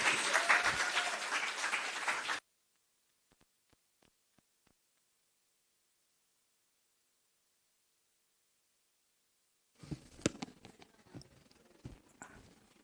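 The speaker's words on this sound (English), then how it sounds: "A huge round of applause from my end to you all." A conference audience bursts into loud clapping for about two seconds, then it cuts off into near silence, broken only by a few faint ticks and later some scattered soft noises.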